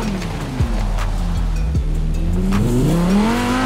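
The Quadro V-Tech, a Cyberpunk 2077 car driven in Forza Horizon 4, drones with a steady engine note that slowly climbs and falls in pitch as it cruises past fields, loud and close with occasional thumps.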